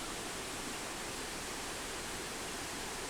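A waterfall pouring into the Kali river on the Kailash Mansarovar route, a loud, unbroken roar of rushing water that fills the whole moment without any change.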